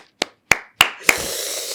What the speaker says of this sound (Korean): 정말 제가 박수를 치고 싶습니다